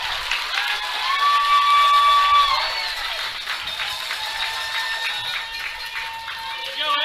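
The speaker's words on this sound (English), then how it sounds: "Raucous crowds from both sides, from Choudrant as well as Monterey" A raucous crowd cheers from both sides at a high school baseball semifinal between Choudrant and Monterey. Sustained shouting, cheering and scattered clapping hold steady throughout, with voices mixed into the din.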